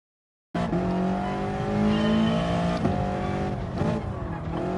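Race car engine in the Gran Turismo Sport video game, a GR3-class car droning at high revs through a lap, pitch rising and dropping with gear shifts and brief tire squeal, loud and alone.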